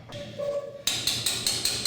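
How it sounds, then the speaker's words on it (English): Sharp, evenly spaced hammer blows, about five quick strikes, ring out close by in a workshop where an Austin Mini GT-Four project car's rear seat back is being worked on, following a quieter stretch of background hum. "I knew it wasn't going to be too long before he got the hammer out though."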